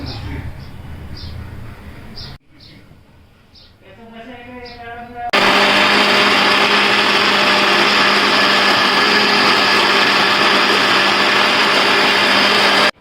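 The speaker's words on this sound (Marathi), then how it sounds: "मिक्सरमधून ग्राइंड करून घ्यायचे तांदूळ." A mixer grinder grinds soaked rice into a fine batter, with a loud, steady motor whine running continuously after short bursts and stops.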